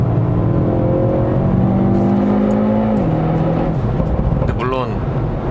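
A 2020 Hyundai Veloster N with the 8-speed DCT on a circuit: loud, steady engine drone from inside the car that drops in pitch, then gives a quick rising rev blip on a downshift.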